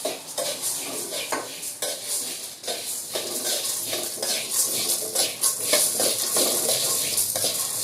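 Fried peanuts being tossed with chili powder in a hot pan, a busy run of metallic scraping and rattling as a spoon stirs the nuts against the pan, loud and close with no talk.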